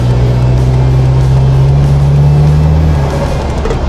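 Isuzu MU-X with a 4JJ3 diesel engine and automatic gearbox accelerating gently at about 2,000 rpm, a steady loud droning engine hum heard from inside the vehicle, with the pitch dropping near the end as the gear shifts.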